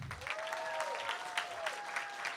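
Comedy school graduation show audience applauding, a continuous spread of many hands clapping at moderate distance, with faint tonal whistling threaded through.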